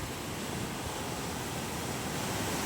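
Ocean surf washes continuously onto a beach where people are bathing, a soft, even roar of breaking waves and spray heard from a distance.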